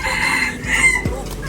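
Chickens cluck and squawk nearby at a free-range farm, a few overlapping calls against a busy outdoor background, with no talking.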